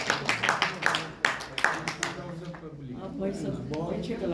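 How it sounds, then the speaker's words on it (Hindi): After a dance performance, an audience's scattered claps give way to fading applause while a voice begins speaking over the tail end. "तो एक बार जोरदार तालियां संतोष शान जी के लिए।"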